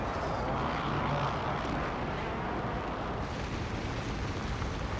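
Vehicle engine in the Warzone video game, a loud, dense continuous roar while driving fast, steady throughout with no speech.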